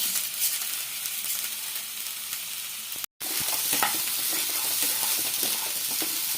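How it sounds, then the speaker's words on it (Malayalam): Continuous dry crackling and light rattling of mung beans dry roasting over low heat and stirred in a pan, with one brief silent gap midway. "തീ കുറച്ച് വെച്ച് കൊടുത്തിട്ട് നമുക്കൊന്ന് വറുത്തെടുക്കണം."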